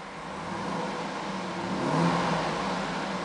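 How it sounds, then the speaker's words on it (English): A 2007 Cadillac Escalade ESV AWD engine revving steadily, its drone swelling a little in the middle before settling back, no voices. "the reason I'm revving is so you can see that the car is running"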